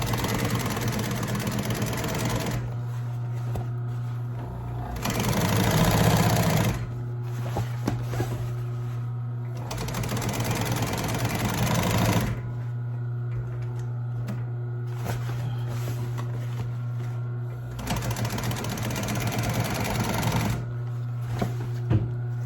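A sewing machine stitching upholstery runs in loud, steady bursts of several seconds with short pauses between, close up, with a constant motor hum underneath.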